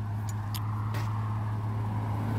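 Cars passing on a roadside where mowers sit on a trailer, heard as a steady low engine hum with faint whooshes; continuous and fairly close, no talking.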